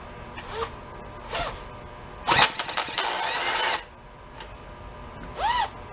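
A power drill spins to crank a free two-stroke bike engine in short bursts, a few whirring pulls with pauses between them, close and fairly quiet, with no engine catching.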